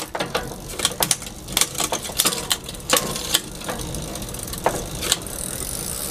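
A bicycle's front derailleur is adjusted on a stand in a driveway, the chain clattering and clicking in sharp irregular bursts against the gears over a steady ticking freewheel, overshifting, close up with no talking.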